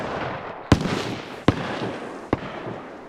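A BK-133 pump shotgun in the game DayZ fires three sharp, loud blasts spaced roughly a second apart, each with a short echoing tail over a low background hiss, with no talking.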